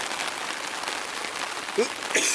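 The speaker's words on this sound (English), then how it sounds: "it's starting to rain a little harder now. You can probably hear it off of the tarp." Rain patters on a tarp at a backcountry campsite on the Algonquin Highland Trail, a dense, even hiss of drops with a few louder taps near the end.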